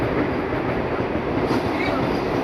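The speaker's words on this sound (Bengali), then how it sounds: "আমরা বর্ধমান স্টেশনে এসছি আর বন্দে ভারত যাচ্ছে" A Vande Bharat express train rushes past close by at Bardhaman station in a loud, steady wash of rolling rumble and wheel noise that lasts throughout.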